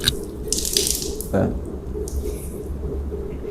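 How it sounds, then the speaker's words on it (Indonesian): Water is scooped and splashed onto the face during ablution, with a short close splash and trickling over a steady tap-like flow, and someone talks throughout. "Ini ghasala itu ambil airnya, tumpahkan di wajah begini."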